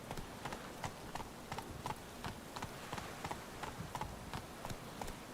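Roach the horse trotting in The Witcher 3, a steady, even clip-clop of hooves at a moderate pace, fairly quiet and carrying on throughout with no voices over it.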